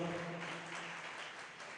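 Applause for the Lord at a church service, a congregation clapping that is faint and thin and slowly fading, with a voice briefly present at the start.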